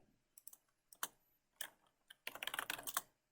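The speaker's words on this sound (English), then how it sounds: "If I type search, it'll show me all of the packages available on the community" Keystrokes on a computer keyboard entering a command, coming in short bursts of clicks with pauses, then a quicker run of typing near the end; faint and close, with no voices.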